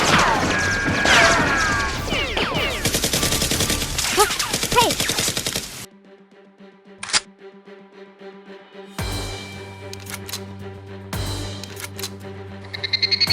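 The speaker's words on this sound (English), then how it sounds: "Dr. Lee catches up and fires at Rose and SEAL X, forcing them to hide. Another battle ensues" Toy Nerf guns firing in a staged Nerf battle: dense rapid bursts of snapping shots and clattering mechanisms, then sparser isolated shots over a quieter background.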